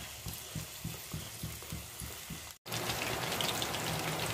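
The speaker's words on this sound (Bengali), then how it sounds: "আমি এরকম ভাবে প্রথমে তেলে একটু ধরে নিয়ে তারপর আস্তে আস্তে এটাকে ছেড়ে দেব।" Chicken pakora pieces being lowered one by one into hot oil, giving a steady close sizzle with soft rhythmic bubbling pulses, a brief break, then a denser, louder continuous frying hiss.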